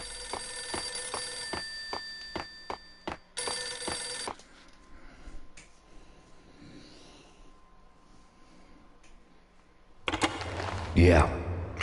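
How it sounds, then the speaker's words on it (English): A payphone in the video game Max Payne rings in repeated electronic bursts, two clear ring cycles early on, then a quieter stretch with ambient tones and a later louder burst of sound. "The payphone started to ring."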